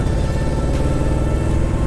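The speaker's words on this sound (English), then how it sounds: "Oh yeah, that transmission's clanging and banging." An abandoned 1976 Jeep CJ5 with a worn, clanging transmission and drum brakes drives on the road, its engine a close, heavy, steady low rumble with faint knocks.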